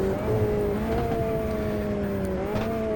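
A Formula Inter race car in Automobilista 2 holds a loud, steady high engine whine under partial throttle, the pitch easing slightly then rising again near the end.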